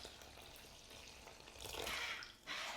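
Water is poured into a bowl of cream of rice as soft, quiet splashing that swells in two short bursts near the end.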